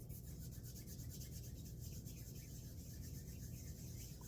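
Dry hands rubbed together, a close, soft, continuous rasping swish with a faint rhythmic back-and-forth texture, quiet and alone.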